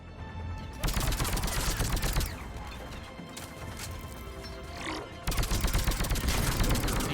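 Dense gunfire during a Mass Effect 3 firefight, heavy repeated shots and crashes packed together loudly across the whole span, with a brief softer lull in the middle.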